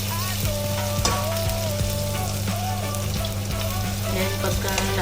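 Onions sizzle steadily in a hot pan for pininyahang manok, a loud continuous frying hiss broken by occasional scrapes and clinks of stirring.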